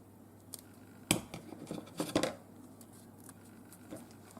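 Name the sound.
scissors cutting thin craft foam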